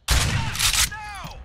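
Rapid burst of video game gunfire, loud and close, ending in a ringing metallic tail with a brief voice underneath.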